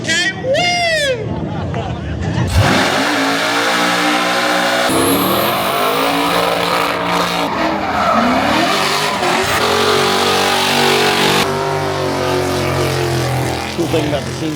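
A car does a smoky burnout at the SEMA show: its engine revs hard and the tires squeal and skid continuously for several seconds, under the babble and cheers of a crowd.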